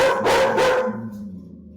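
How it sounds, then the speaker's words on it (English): A dog gives two quick, close barks in succession, followed by a faint trailing whine as the sound fades, with no talking over it. "She just picks certain dogs she barks at."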